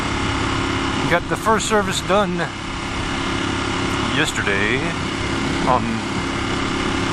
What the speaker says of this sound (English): I got the Termignoni slip-on exhaust put on. I don't know if you can hear the difference right now.